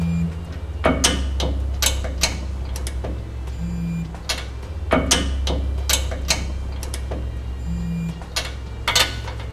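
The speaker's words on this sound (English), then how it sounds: "we'll go ahead and torque to specifications as indicated in the instructions" A torque wrench clicks and ratchets in repeated bursts while the fasteners of a Curt trailer hitch receiver are torqued on a 2007 Ford F-250, over a steady low hum, with no talking.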